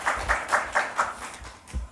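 A short burst of applause at a church Sunday service, with evenly spaced claps, moderately loud and fading slightly toward the end.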